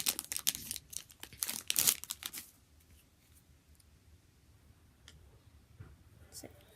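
A foil NBA Hoops trading card pack is torn open with a loud crinkling rip over the first couple of seconds, followed by quieter rustling and a few faint clicks.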